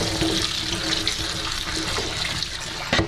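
Purified tap water runs steadily into a kitchen sink while organic blueberries are rinsed, a constant close splashing hiss lasting about three seconds with no speech.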